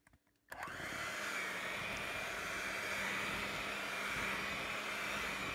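After a brief quiet start, an electric mixer whirs steadily through chocolate cake batter with milk added, a continuous even motor hum that holds at moderate loudness to the end.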